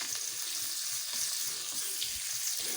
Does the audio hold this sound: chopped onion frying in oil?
yes